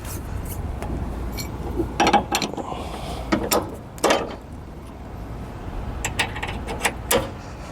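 A pin comes out of an etrailer XHD tow bar arm on a 2015 GMC Sierra 2500, heard as a few scattered metallic clicks and sliding clunks, close and fairly quiet, with soft background noise.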